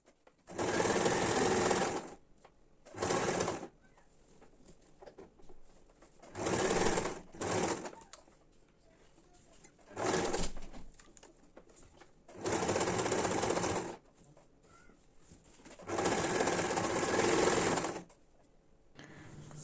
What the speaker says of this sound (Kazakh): Өте қалың болғасын, негізі бытовой машинкамен тігу шамалы қиындау болды.